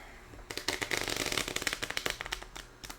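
Bicycle playing cards riffle-shuffled by hand close up: a quick burst of dense crackling flicks lasting a couple of seconds, then a few scattered snaps, with no talking.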